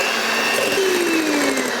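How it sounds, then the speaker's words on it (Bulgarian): Electric mixer whirring steadily as eggs are beaten with white and brown sugar for cinnamon banana bread, a loud close motor hum whose pitch drifts slightly lower as the batter thickens, with no talking. "Сега си разбиваме яйцата."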